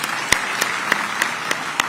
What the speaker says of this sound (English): Can you please celebrate him with a round of applause?